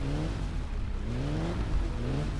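A car in the driving game My Summer Car revs its engine steadily as it slides, a close, continuous droning roar with rising and falling pitch and no talking.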